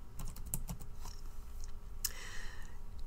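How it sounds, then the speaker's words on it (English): Rapid clicking of computer keyboard keys, a quick run of close typing strokes with a few sharper taps, steady and fairly loud with no talk over it. "I'm going to type in nursing."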